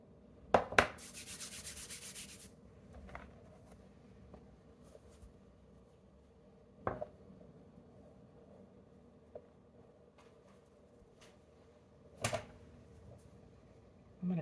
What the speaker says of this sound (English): we're going to just knead this just a little bit